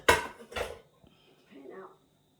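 A hot pan is handled in a kitchen during cooking of spicy garlic shrimp: two quick close metallic clanks, then a faint scrape and a brief softer rattle, with nobody speaking.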